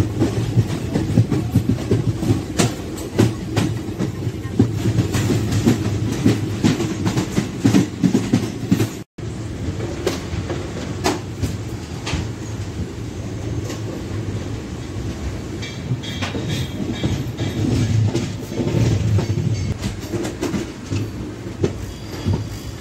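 A Sabari Express passenger train with a WAP-7 electric locomotive runs along a double electric line, its steady rumble and clickety-clack of wheels over rail joints continuing close and loud throughout, with a brief dropout partway.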